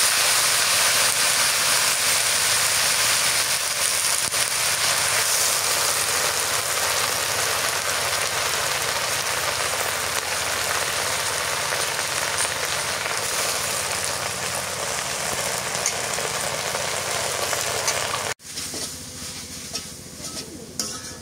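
Leafy greens (shak) frying in hot oil give a loud, steady, close hiss like heavy rain that runs without a break, then drops off sharply near the end.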